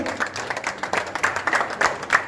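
Audience clapping at a community hall inauguration in Risali, Bhilai, a brief burst of loose, uneven handclaps with individual claps standing out, close and fairly loud.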